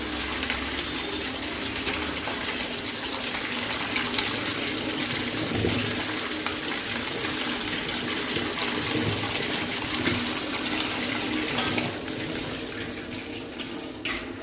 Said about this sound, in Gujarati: હવે આપણે તેને સારી રીતે પાણીથી વોશ કરી લઈશું